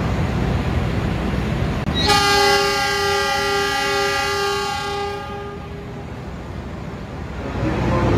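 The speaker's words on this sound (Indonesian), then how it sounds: "ini kereta api Wijaya Kusuma yang aku naiki sudah tiba, berhenti di stasiun Seragen tepat waktu" A train horn sounds loudly for about three seconds over the steady rumble of the Wijaya Kusuma passenger train rolling into Sragen station, Indonesia, then fades back to the rumble.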